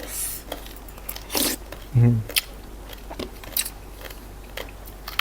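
Crispy fried fish eaten with a sour star gooseberry salad gives a few sharp, close crunching bites amid quiet pauses, and a person talks intermittently.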